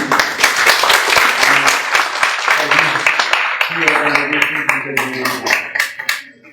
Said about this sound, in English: So a big applause for the Syed University